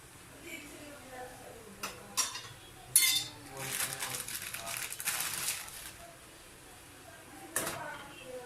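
Metallic clinks and clatters of a pot and utensils as pancit canton noodles go into boiling water, a few sharp knocks and a rustling stretch in the middle, fairly quiet.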